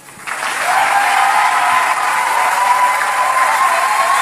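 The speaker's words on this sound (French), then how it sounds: "C'est ici que tu dois acclamer." A church congregation breaks into loud, sustained cheering and applause during a worship service, the crowd noise rising quickly and staying dense and steady throughout.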